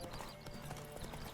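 Rapid clip-clop of a galloping horse in a Witcher 3 horse race, hooves pounding steadily and close with a faint neigh over a busy game backdrop.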